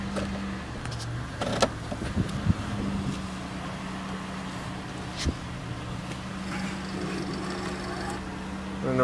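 A 2004 Chevrolet Venture idles just after a cold start, a steady low engine hum running throughout, broken by a few nearby clicks and knocks.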